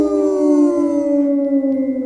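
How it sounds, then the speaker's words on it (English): A loud, close, drawn-out werewolf howl sound effect, one sustained tonal wail that slowly falls in pitch and fades, with no talking over it. "hear the howl of werewolf loggers on the prowl"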